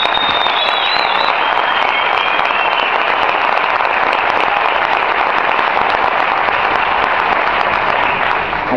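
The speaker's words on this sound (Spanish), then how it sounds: "os pido un fuerte aplauso para él" A live audience applauds conga player Jaime Nadal at an informal music gathering, a dense, loud, steady wash of clapping that fills the whole stretch with little letup and a faint whistle early on.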